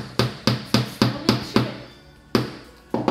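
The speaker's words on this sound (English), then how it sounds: "as you're hammering, watch it, and if it starts to slip" A hammer drives a nail into a wooden board for string art, giving sharp close taps in an even rhythm, six blows, a pause, then two more.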